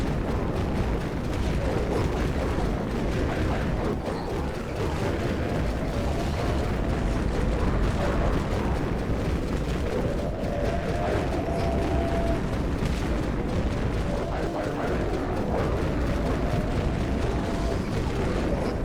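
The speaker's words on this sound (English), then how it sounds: "This is the Dawn launcher" Dawn launcher explosions in the video game Dead Frontier blend into a dense, continuous rumbling roar of blasts that stays loud and steady throughout, with no clear gaps between detonations.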